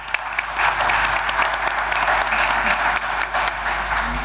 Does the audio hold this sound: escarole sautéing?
no